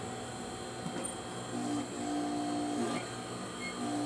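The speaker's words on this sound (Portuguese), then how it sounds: "Agora é só rebater na máquina reta" A straight-stitch sewing machine running seams on an angel costume dress, a steady mechanical whir with rapid needle clatter that rises and falls slightly in pace, close and continuous.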